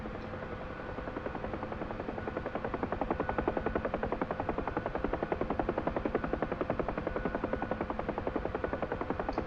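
Huey helicopter in flight decelerating from about 80 knots, a steady loud rotor thump with rapid regular blade slap and engine drone heard from the cockpit, continuous and unbroken.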